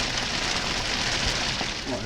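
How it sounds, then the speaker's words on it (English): Heavy rain falling outside, a dense continuous hiss of drops on surfaces, steady and fairly loud for the whole short stretch. "Right, the rain's abated a little bit."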